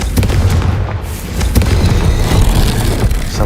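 A Confringo blasting spell bursts in Hogwarts Legacy, a loud booming explosion with sharp impacts and a rumbling low end that keeps going across the whole moment, with no talk over it.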